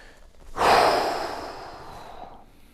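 A single deep breath during a golf stretch for golfers over 50, a close, airy exhale that swells quickly and then fades slowly over about two seconds.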